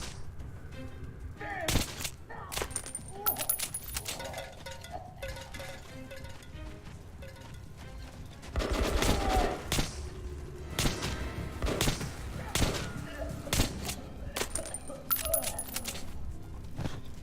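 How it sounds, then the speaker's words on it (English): Gunfire in Metro 2033 Redux, heard as a series of sharp shots and cracks scattered irregularly, bunching into a denser burst midway, with a voice speaking between them. "What are you shooting at?"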